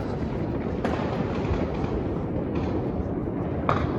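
New Year fireworks going off all around in El Salvador, a continuous rumbling barrage of distant booms with a few sharper cracks standing out, loud and dense throughout.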